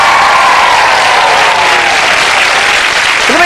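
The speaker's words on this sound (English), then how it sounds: "Give them a nice round of applause," Loud, dense studio audience applause on a British morning television show, a steady wash of clapping held at full strength throughout without a break.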